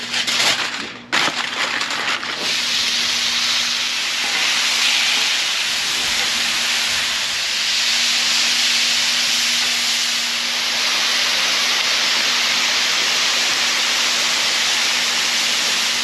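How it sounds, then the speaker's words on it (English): Covered roasted peppers steaming in a kitchen, giving a steady, close hiss that runs unbroken for the whole stretch after a brief rustle at the start, with no talking. "I'm gonna go ahead and cover them, let them steam for about 15 minutes."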